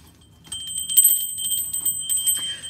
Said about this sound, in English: Oh, I should have had a bell.